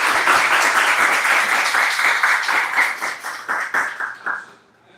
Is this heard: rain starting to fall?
no